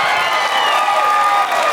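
A stand-up comedy crowd gives a loud burst of applause mixed with cheers and whoops, a dense roar of clapping and voices filling the room.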